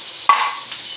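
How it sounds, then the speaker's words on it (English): Roasted diced green chilies tipped into a pot of spicy green chicken chile white bean soup give one sudden sizzling burst that trails off into a soft, steady hiss. "We're going to add our roasted green diced chilies."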